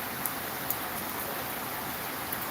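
Steady rain pours down on an outdoor spot, a dense even hiss of drops filling the whole stretch with a few faint louder taps, no voices.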